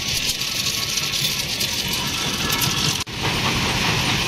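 A steady, loud tractor engine rumble at a stone-crushing plant runs throughout with continuous broadband noise, briefly dipping near the end before resuming.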